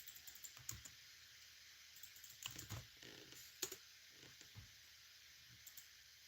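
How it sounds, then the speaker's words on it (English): Quiet, irregular keyboard typing with scattered clicks and short pauses, faint against a soft background hiss. "I can already hear Flossie typing."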